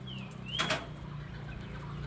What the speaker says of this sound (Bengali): তো বন্ধুরা এখানে 3টে পায়রা উঠছে।